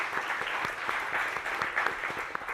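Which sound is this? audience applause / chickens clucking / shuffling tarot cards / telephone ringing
audience applause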